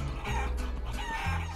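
Chickens in the video game Guacamelee cluck and squawk in a steady flurry of close, bright calls over game background sounds.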